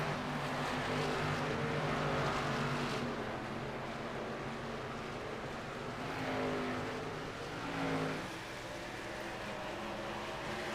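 Race cars in an ARCA series racing game at Dover sweep past out of turn four, a steady loud engine roar swelling and fading as cars pass, with pitch sweeps around the middle of the run.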